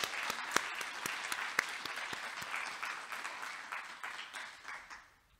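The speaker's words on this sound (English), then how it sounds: "I really want to give a huge applause for everyone who made the project a success." An audience at a final project conference breaks into applause, with a few sharp, close claps standing out over the crowd's steady clapping, which gradually thins and fades away.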